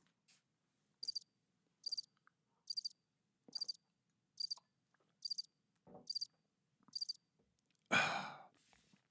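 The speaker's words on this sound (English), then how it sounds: "Crickets are quite peaceful" Crickets chirping in quiet, evenly spaced bursts of high trills repeating about once a second, faint and alone, ending with a louder breathy rush.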